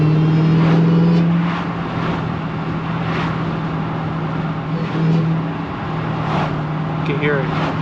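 A 2021 Dodge Charger Hellcat's supercharged engine heard from inside with the windows down, a loud low drone with a steady tone and occasional swells, while someone talks over it throughout.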